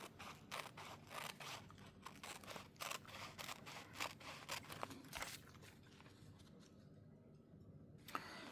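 Scissors snip around the edges of a journal page in a quick run of short, crisp cuts, close and fairly quiet, slowing to a few isolated snips before a final click.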